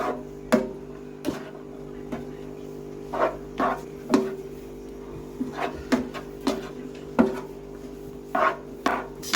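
Roughly chopped beef stroganoff ingredients with mushrooms being stirred in a pan, irregular soft scrapes and clacks of a utensil against the pan over a steady low hum, close and moderately loud.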